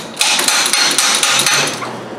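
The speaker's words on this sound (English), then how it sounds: "So once you got it slotted, just go ahead and give it a good tap." A hammer raps rapidly and repeatedly on a Torx bit seated in a head bolt of a 2007 Range Rover 4.2 Supercharged engine during a head gasket job, loud sharp metallic blows at close range with no talking.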